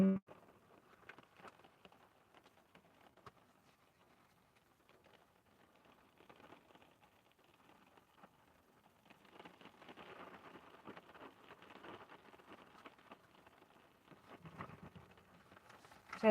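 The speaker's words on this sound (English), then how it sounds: "this rain ain't no joke" Rain falls steadily outdoors, a soft, diffuse patter that stays faint throughout and swells slightly in the second half, with no voices over it.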